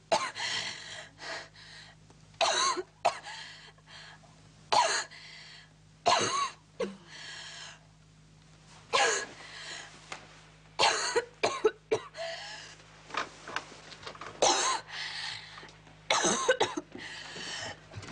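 A child coughs over and over in harsh, close bursts, with short gasping breaths between fits and no talking.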